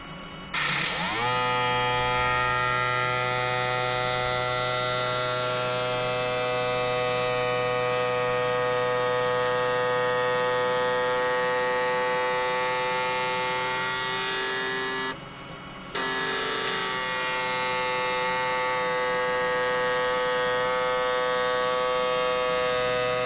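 A Sparx ES100 skate sharpener about eight years old runs a sharpening cycle with a loud steady electric motor whine and hum. The tone holds for over twenty seconds and drops out briefly near the middle before resuming.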